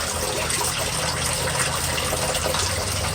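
Steady gushing water pours from the outlet of a yard French drain line, a continuous loud rushing stream with no pauses.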